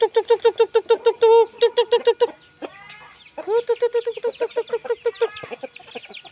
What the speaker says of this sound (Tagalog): Yan yung mga manok namin dito.